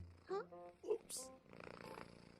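A person imitates a cat's purr with a throaty, rumbling buzz that follows a few brief vocal sounds, close and moderately quiet.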